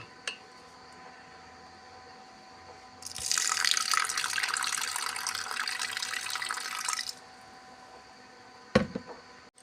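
Red lentils (masoor dal) are washed under a running kitchen tap, a steady splashing gush lasting several seconds before stopping, with faint drips and a clunk afterward, fairly quiet and close.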